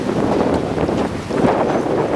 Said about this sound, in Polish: to nie słychać za bardzo, bo wiatr przeszkadza